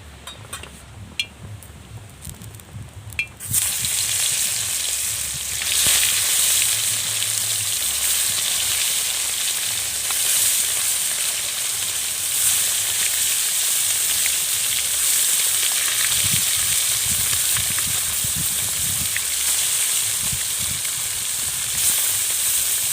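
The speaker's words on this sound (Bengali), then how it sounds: "এবার আমি মাছগুলো ভেজে নেব।" Amodi river fish frying in well-heated oil in a wok: after a quieter start, a loud, steady, dense sizzle takes over and holds close and continuous with no talk.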